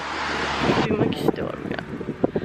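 Steady wind rushing over the microphone in an open area at a beach, strong at first, then easing as a voice speaks nearby.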